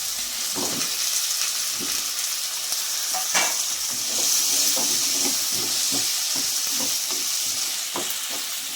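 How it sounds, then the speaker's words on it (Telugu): Palm sprouts frying with cooked, softened tomato in a pan, a close continuous hiss broken by irregular scraping and stirring knocks, with no talk. "ఇప్పుడు మనం ఈ తేగలు అనేది వేసేసుకుందాం"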